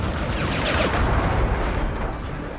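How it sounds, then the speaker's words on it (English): A missile launched in a video game roars out as a loud, rumbling whoosh of rushing noise that carries through the whole moment without voices. "I'll just use a missile."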